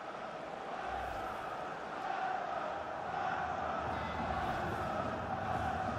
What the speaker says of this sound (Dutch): Moet je dat publiek horen juichen?